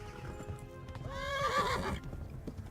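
A horse in the video game Kingdom Come: Deliverance whinnies sharply with a rising then falling neigh midway, over quick, close hoof clip-clops on the ground.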